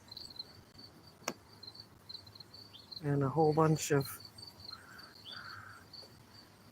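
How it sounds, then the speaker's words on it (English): Crickets and cicadas chirp steadily and faintly in the background on a Wisconsin front porch while a person briefly speaks over them, with a sharp click early on. "I got cicadas and crickets"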